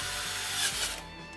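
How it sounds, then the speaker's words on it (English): A power drill bores a 1/4 inch hole in a sink drain pipe under a sink, a steady whirring grind with a gritty rasp that rises briefly and then eases off, close up with no talking. "drill a 1/4 inch hole in the sink drain pipe"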